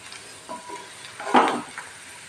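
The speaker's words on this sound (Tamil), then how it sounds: "போட்டு நல்லா வதக்கி கொடுங்க." Potato masala filling being sautéed in a pan: soft sizzling with light stirring scrapes, a louder stir in the middle, moderately close and without talk.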